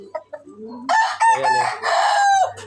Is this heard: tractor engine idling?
no